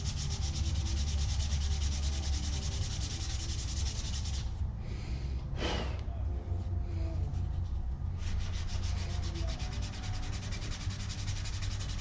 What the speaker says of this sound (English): So I've got some 320 grit sandpaper here, and I'm just going to carefully sand just that edge.